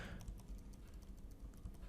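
Quick keystrokes on a computer keyboard, bracket keys pressed to resize a brush while editing a photo, a soft irregular run of close clicks over a low steady hum.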